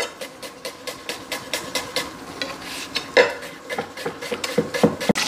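A knife chops onions into small pieces on a board with quick, steady, fairly close knocks, about three or four per second, while a thicker soup is prepared; a few sharper clacks land near the end.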